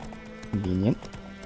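Hoofbeats from Roach, the horse in The Witcher 3: Wild Hunt, patter softly in a quick rhythm while a voice briefly talks over them midway.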